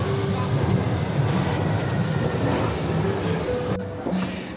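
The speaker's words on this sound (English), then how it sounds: "This is a Victoria Line train to Walthamstow Central." A London Underground Victoria Line train running in the tunnel, with a loud steady roar and rumble, brief squealing tones and a clatter near the end, and no clear talking.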